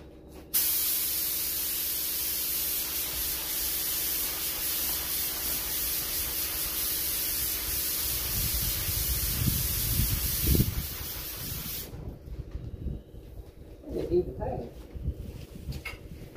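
Spray paint hisses steadily and loudly onto a rusty 1969 Dodge Charger, then stops, leaving quieter rustling and handling noises.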